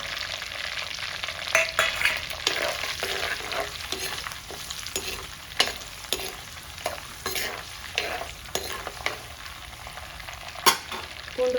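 Garlic fries in oil over a low flame for a shallot and garlic kara kuzhambu, with a steady soft sizzle broken by frequent scraping stirs throughout, close and without talk.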